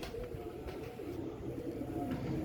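A female Dub pigeon coos softly at close range, a low murmuring call over faint background noise, brief and continuous.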